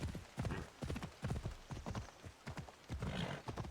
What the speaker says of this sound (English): Make your horse go faster until you get to wherever the hell it is you wanted to go.